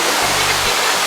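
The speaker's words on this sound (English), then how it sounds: "Look at that waterfall." Waterfall at Twin Falls, Hawaii, a loud continuous broadband rush of falling water, close and unbroken throughout.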